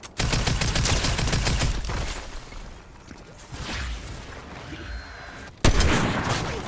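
Rapid bursts of video game gunfire fill the opening seconds, easing into quieter scattered shots and then a loud renewed volley near the end, with no talking.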